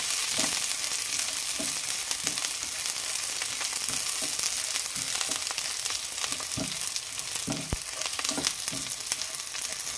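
Onions sizzle and crackle steadily in a hot pan as they fry, with occasional sharper pops and stirring knocks through the constant hiss, close and continuous.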